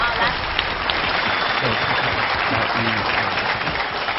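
A studio audience on a Chinese talk show applauds, a dense, continuous clapping close and loud, with voices mixed into it.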